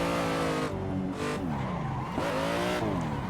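Aussie Drift Co BMW M3 drift car in Assetto Corsa sliding with steady tire squeal over a droning engine whose pitch rises and falls through the gears, loud and continuous with no talking.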